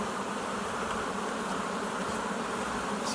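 A honeybee colony inside a hive, a dense, steady buzzing drone that stays at an even loudness throughout with no pauses.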